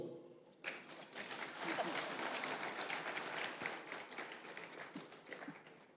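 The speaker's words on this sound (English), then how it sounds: "I require another round of applause." An audience at a conference talk bursts into applause after a brief quiet start, a dense sustained wash of clapping that fills the room and holds steady to the end, with a few faint voices underneath.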